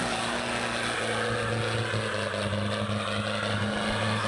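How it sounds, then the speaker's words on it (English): A cooling fan on an off-road car with a broken radiator whirs steadily, set within a continuous engine drone that holds close and fairly loud for the whole clip, with no voices. "The noise you're hearing is probably the fan."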